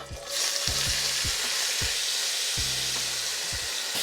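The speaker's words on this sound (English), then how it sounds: "we're going in with our veggies. Again, the jalapeno, the onion, the red pepper" Jalapeno, onion and red pepper sizzle hard in beef fat in a Dutch oven, a steady close hiss broken by a series of scraping stirs at an even pace.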